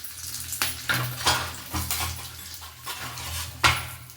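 Dried Byadgi chillies go into a hot pan for vegetable sambar, a close sizzle broken by repeated clinks and scrapes of a utensil on the metal pan.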